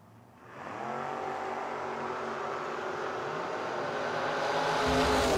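Drag racing cars at a footbrake race, one of them a Camaro, launching off the line with a loud sustained engine roar that builds steadily in pitch and intensity as they accelerate away.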